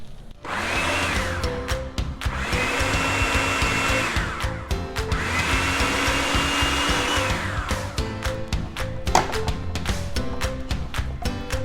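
A kitchen blender pulses chickpeas and aquafaba into oil-free hummus, its motor whirring loud and close in repeated surges that rise and drop, with a few short bursts near the end.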